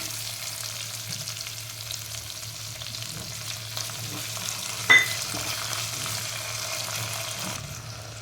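Vegetables and peas frying in a pressure cooker for veg biryani, a steady close sizzle with light stirring scrapes and a brief clink of a utensil partway through.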